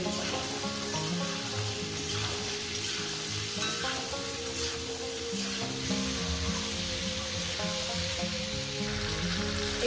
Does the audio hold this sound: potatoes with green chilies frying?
yes